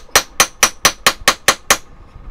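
Eight sharp, evenly spaced hammer strikes land close by on a metal whale tail pendant in quick steady rhythm, then stop.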